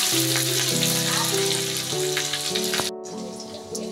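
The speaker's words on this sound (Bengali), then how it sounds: "এবার আমি এর উপরেই গাজরটা অ্যাড করে দেবো। গাজরটা দিয়ে দেবো তেলের উপরে।" Grated carrot with ginger frying in hot oil in a pan for carrot paratha, a steady close sizzle throughout with a brief clatter near the end; no speech.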